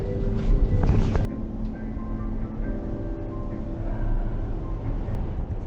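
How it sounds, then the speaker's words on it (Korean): Strong wind buffets a microphone inside a lakeside cable car cabin, a steady low roar with heavier gusts near the start and a faint whine of the car's machinery throughout. "바람이 많이 부네"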